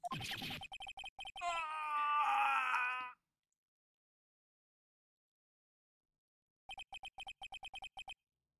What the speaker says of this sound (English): A bone-chilling scream.